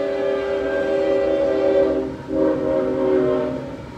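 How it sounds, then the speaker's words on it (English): A train passes nearby, its horn sounding in long sustained tones, dipping briefly and then blaring again over a low rumble of the rail cars, loud and close. "There's a train coming."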